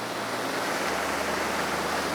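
The constant broadband rush of Watui Falls, a waterfall above a small lagoon, sounds steady and full, close by, with no voices.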